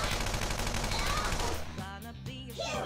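Rapid, sustained gunfire as party members shoot an enemy in Persona 5 Royal, a loud dense volley that gives way to tonal game effects and music toward the end.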